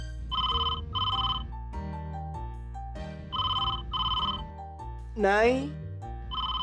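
Telephone ringing in a television comedy scene, two double-burst rings repeating over a steady musical background, with a short voice and a rising squeal near the end.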